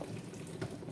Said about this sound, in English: now we're going to drain the water from the beans